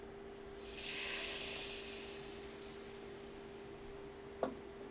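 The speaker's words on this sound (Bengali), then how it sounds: "আর এখন আমি দুধ দিয়ে দিব" Milk poured into a hot pan of browned fried flour sets off a loud sizzling hiss that swells quickly and then slowly fades, with one brief clink near the end.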